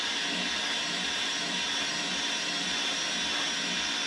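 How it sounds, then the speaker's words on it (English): A power buffer polishing the plastic of a Mazda headlight, a steady, even whirring hiss held at constant speed throughout, close and unbroken. "I just happen to have a nice buffer that makes things a lot easier"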